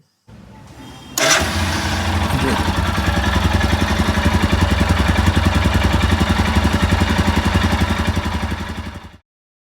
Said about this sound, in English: Let's start the vehicle and మనం ఒకసారి check చేద్దాం మనం ఒక ఎగ్జాస్ట్ నోట్ అనేది ఎలా ఉందనేది.